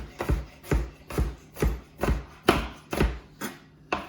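A knife chops through a broccoli stalk on a cutting board, about nine firm, evenly spaced thuds close up with no talking.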